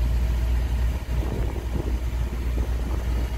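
A Mercedes ML Class SUV's engine idles in a steady, close low rumble with a faint rattly texture, running continuously on its own without talk.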